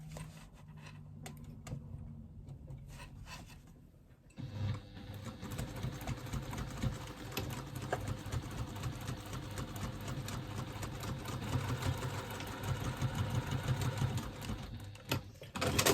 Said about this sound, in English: I'm just going to take it to the machine and stitch.